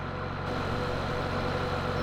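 Tractor engine in Farming Simulator 17 running steadily, a loud low droning idle with a regular pulsing throb, alone without talk.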